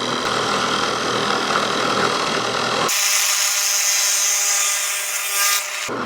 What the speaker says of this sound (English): So now we're going to go ahead and drill that thing